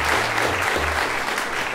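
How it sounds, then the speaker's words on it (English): Audience applause for a bass player at a live music performance in Evart, steady dense clapping throughout, fairly loud and continuous with no voices over it. "Give them a round of applause."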